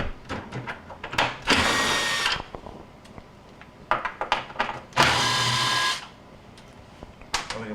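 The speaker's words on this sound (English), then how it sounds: "there are 2 1/4-inch screws that have to be removed. We're going to go ahead and remove the screws." Cordless power driver backs screws out of a Maytag refrigerator ice bucket rack, two loud whirring bursts of about a second each, separated by clicks, handling knocks and quiet speech.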